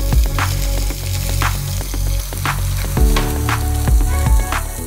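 Chopped onion sizzles in hot oil alongside curry leaves and red chilli for a millet dal khichdi, a steady close crackle with periodic spoon taps against the pan and a low hum underneath.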